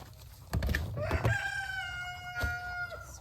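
A nearby rooster crows with a long drawn-out call, preceded and followed by short clucks from chickens.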